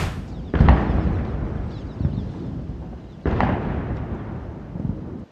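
A ceremonial cannon salute booms outside the presidential palace in India during an official state welcome, with two heavy blasts about three seconds apart, each followed by a long rumbling echo.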